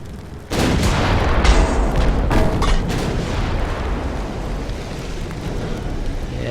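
Warship guns firing HE shells in Ultimate Admiral: Dreadnoughts, a heavy booming salvo that opens with a sharp onset, then several more loud reports and a long rolling rumble that stays dense and close.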